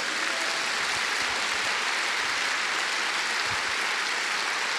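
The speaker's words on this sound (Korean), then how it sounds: "우리 영광의 박수 한번 주님께 돌리십니다" A church congregation at a Korean worship conference applauds in a dense, sustained roar of clapping that fills the whole stretch evenly and loudly, with no voice rising above it.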